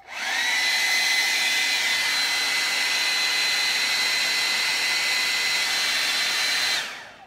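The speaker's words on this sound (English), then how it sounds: "You can kind of see how that hair dryer is kind of blowing that around" A hair dryer blows at a steady, loud whir with a high whine, heating a metal patina finish, running continuously for several seconds before switching off.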